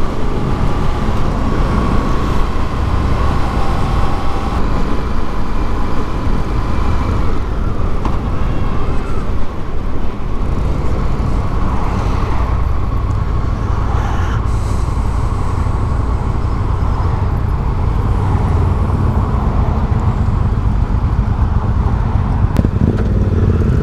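FTR 1200 motorcycle riding on a road while merging onto a highway, a loud continuous engine drone mixed with wind and traffic noise, steady throughout with no talk.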